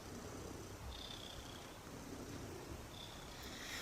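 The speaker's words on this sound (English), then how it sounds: "He's purring loads." Soft, steady purring from a cat close by, a continuous low rumble with no voices.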